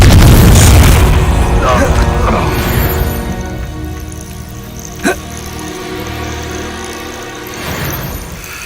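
A deep booming blast opens the Confringo spell in Hogwarts Legacy, loud and close, then rumbles and fades into a lingering roar with a brief pop and faint crackles, mixed with speech.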